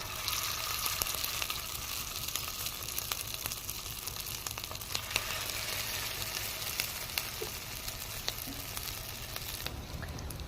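Corn fritters frying in hot oil in a wok, a steady close sizzle and crackle with small pops running throughout, with no voices.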